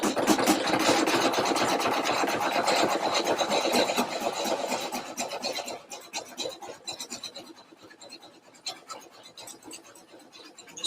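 An embroidery machine sewing a satin stitch on fabric for an in-the-hoop purse: a dense, fast mechanical buzzing and clatter, loud and steady at first and then thinning into a lighter, more broken stitching rhythm.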